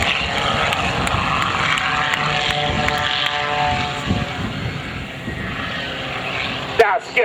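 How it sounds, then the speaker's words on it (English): Skip Stewart's aerobatic airplane Prometheus performing at the Battle Creek Airshow in 2011 gives a steady, loud propeller-engine drone that holds throughout, with an announcer talking over it and a sharper burst near the end. "Now Skip rolls that airplane around in an outside turn"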